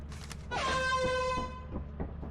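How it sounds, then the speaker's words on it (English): An air horn blown inside the Lethal Company video game gives one loud, close, brassy honk lasting about a second, with a sharp onset and a quick fade, over low game background noise. "I almost forgot the rule of picking up these air horns and sending it"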